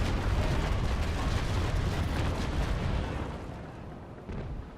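Ship cannons fire in Naval Action during a fleet battle at point-blank range between Trincomalee and Indefatigable frigates, a dense booming rumble that rolls on and slowly fades, with a smaller burst near the end.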